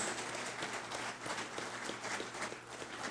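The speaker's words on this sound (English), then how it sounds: "Please give both of our outstanding airmen a round of applause." An awards ceremony audience gives two outstanding airmen a steady round of applause, a thick wash of many clapping hands that holds evenly throughout.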